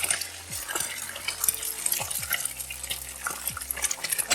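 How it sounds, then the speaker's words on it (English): Eggs cracked into a skillet of leftover bacon grease, with close stirring and scraping, soft clunks and a light sizzle underneath, without talking. "now we're adding the eggs into the skillet"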